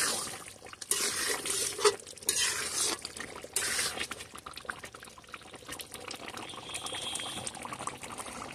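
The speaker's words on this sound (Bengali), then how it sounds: "ভালো করে নেড়ে দেব।" Beef curry (bhuna) sizzles and bubbles in a pan while being stirred, with uneven bursts of frying hiss and scraping, close and fairly quiet.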